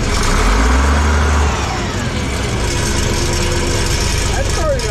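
An engine on a machine at an auction is revved with the throttle. It gives a loud, steady, close rumble with a rise in pitch early on, and a voice talks over it.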